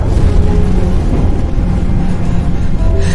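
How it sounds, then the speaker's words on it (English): In the space game Starfield, an explosion blasted from a planet's surface sets off a loud, sustained low rumbling roar that holds steady for several seconds without speech. "The explosion from the surface pushed the asteroid field right at us."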